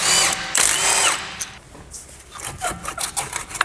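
Power tool whirring close by as it removes the bolts on a Toyota brake caliper, a loud burst at the start followed by quieter scraping and clicking handling sounds.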